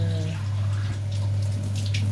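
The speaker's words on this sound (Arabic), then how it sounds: "هنضيف لها كوبايه ميه عشان تبدا تستوي" A cup of water is poured into a cooking pot, a short steady splashing pour over a low background hum.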